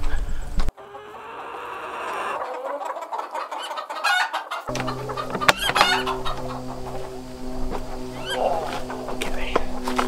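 Backyard chickens cluck and squawk in repeated bursts, close by and fairly loud, with rustling and handling noises in between and a person speaking briefly.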